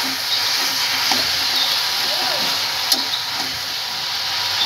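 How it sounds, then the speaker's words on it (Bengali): Malabar spinach and fish head cooking in a pot, a steady loud sizzle and hiss with occasional soft scrapes of a stirring spoon. "একটু নেড়ে ঢাকা দিয়ে দেবো।"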